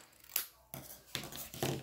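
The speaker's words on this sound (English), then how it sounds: "Where's my scissors? I'm just gonna cut a little piece off." Scissors cut a small piece off during a flip book pocket holder craft, giving about four crisp, close snips in quick succession with short pauses between them.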